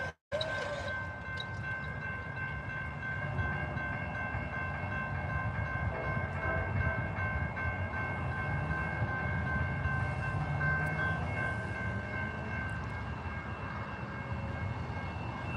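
A train rumbling past a rail crossing in Plant City, Florida, with a steady, loud, continuous roar and sustained tonal whine running throughout, no talk over it.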